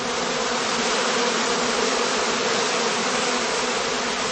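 Honeybees from heather skep casts gather into a swarm cluster, a dense continuous buzzing hum that stays loud and steady throughout, close to the listener and with no talking.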